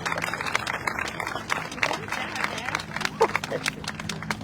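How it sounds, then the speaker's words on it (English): An audience claps through a kid mayor and council announcement, with steady scattered applause and crowd murmur held at moderate loudness across the whole stretch. "Can we get a special round of applause for my parents?"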